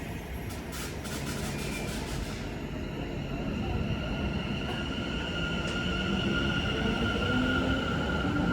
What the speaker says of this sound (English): An VANDAII West Coast Class 390 Pendolino passes on the down-fast line.